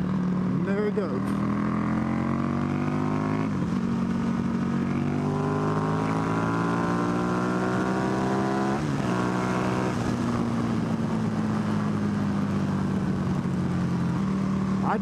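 A Buell 1125CR naked motorcycle idling and revving close by, its engine note rising and falling in long sweeps with sharp blips, loud and continuous while someone talks over it.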